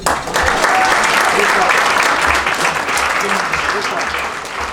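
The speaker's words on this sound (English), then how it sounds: "Round of applause for her." At a youth track and field awards brunch, a crowd breaks into loud, sustained applause that holds steady and then slowly tapers, with some cheering and chatter mixed into the dense clapping.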